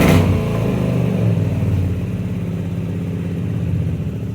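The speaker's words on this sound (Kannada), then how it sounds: "ಬೈಕ್ ಸೌಂಡಿಂದ ನನ್ನ ಮಾತೇ ಕೇಳಿಸಲ್ಲ" A motorcycle engine runs close and loud, starting with a revving burst and then holding a steady, rough mid-pitched drone that dominates throughout.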